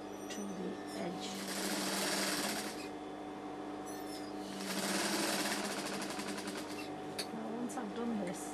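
A sewing machine stitches along the neckline of an A-line dress, running in a loud, fast, continuous mechanical whir with slight surges in speed, while a voice is faintly present.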